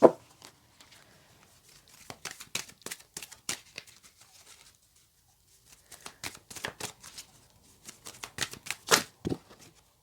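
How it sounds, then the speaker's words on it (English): Oracle deck being shuffled by hand: two bursts of crisp riffling card flicks, one spanning the first half and another after a short pause, close and clear with no talking. "let's get your final card of advice from Sacred Rebels"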